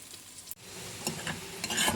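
A quiet sizzle of onion and chili frying in a pan, with a brief dropout and then several light scraping stirs, heard close with no speech.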